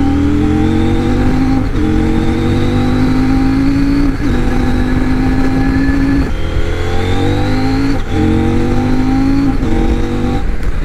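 A CF Moto 800MT Touring motorcycle accelerates hard through the gears with a quickshifter, its loud, close engine note climbing in pitch in repeated surges, each broken by a brief dip at a shift.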